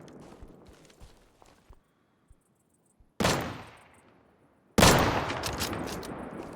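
Gunfire in the survival shooter Deadside during solo PvE play: two loud, close shots, each a sharp crack followed by a long decaying tail, spaced about a second and a half apart after faint scattered ticks and footsteps.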